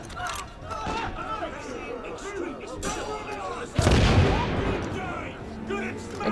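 Booming video game mortar explosions, with a heavy close blast near the middle over a scattered rumble of gunfire and impacts, while a person talks throughout.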